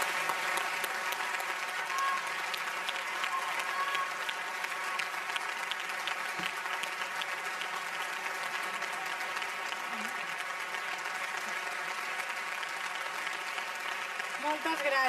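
Audience applause at the Premis Nacionals de Cultura 2014 awards ceremony, a steady dense clapping from a large crowd filling the hall, continuous and even throughout, heard alone at moderate distance.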